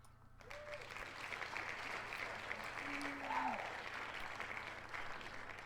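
An applause and cheer sound effect plays on a World of Warcraft challenges podcast: a dense, even patter of clapping from a crowd running continuously for several seconds at moderate level, with a few faint tonal blips in the mix.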